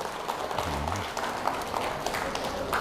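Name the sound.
audience applause for the ancestors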